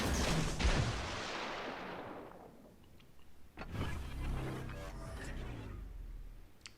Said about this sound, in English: So I'm firing the torpedoes